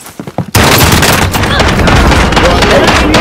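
A shotgun blast in Call of Duty: Modern Warfare, a sudden loud close shot after brief quieter noises, followed by a dense, sustained roar of gunfire and chaos.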